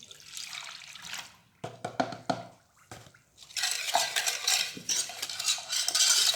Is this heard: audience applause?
no